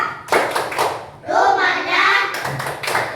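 A primary school class performs a rhythmic clapping chant, bursts of hand claps alternating with children's chanted voices in a lively, repeating pattern.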